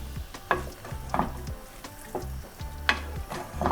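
A spoon stirs an onion, garlic and tomato paste mixture cooking down in a pot, giving soft scraping strokes at a regular pace over a low, steady sizzle.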